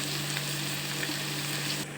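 Green chillies and onions sizzling steadily in hot oil for a country chicken curry, a constant close crackle and hiss with no talking.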